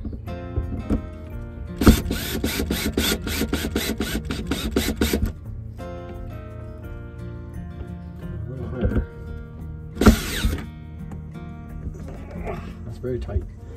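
A storage mount is tightened down inside a Grand Design Solitude 38 RV: two bursts of harsh, rapid ratcheting and rasping, one long and one short, close and loud, with a person talking around them.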